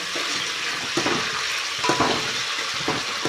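Spices, onions and fenugreek leaves sizzle steadily in hot oil, with a spoon scraping and stirring the pan in a few distinct strokes over the continuous crackle.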